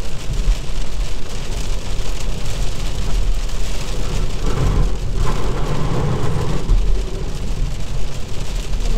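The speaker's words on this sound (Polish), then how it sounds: "Wow, ale burza." Heavy rain from a storm drums steadily on the roof of a 2022 Kia XCeed plug-in hybrid while driving, a dense continuous roar with low rumbling underneath, loud and close throughout.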